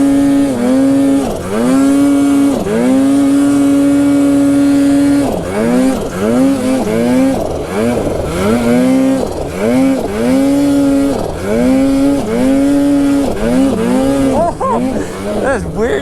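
Ski-Doo and Polaris snowmobiles riding up a drainage, engines loud and close, pitch swinging up and down repeatedly as the throttle is blipped and released over rough terrain.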